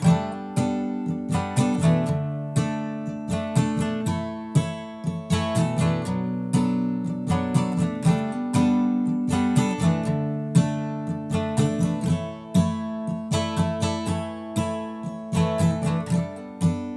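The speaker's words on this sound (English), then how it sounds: "So really slow all together, the strumming pattern will sound something like this." Guitar strummed slowly in a steady repeating pattern, full chords sounding one after another, close and clear with no talking.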